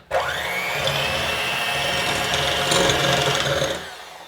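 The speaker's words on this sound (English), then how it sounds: "And now it's time to beat up these egg whites. I have a hand mixer that I'm going to use." A hand mixer starting up at low to medium speed and beating egg whites for meringue cookies, a steady close electric whir with a rising pitch at the start, stopping near the end.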